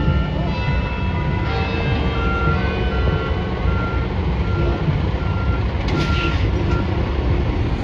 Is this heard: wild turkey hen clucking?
no